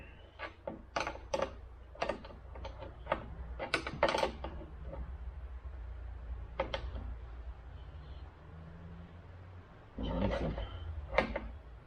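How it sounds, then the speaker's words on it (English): A 17 millimeter nut is snugged up on a Seizmik mirror mount on a side-by-side UTV, heard as bursts of short ratcheting clicks and metallic rattles, close up, with a brief pause in the middle. "So this nut here is 17 millimeter. Just reach in there, hold that where you want it, and snug that thing up."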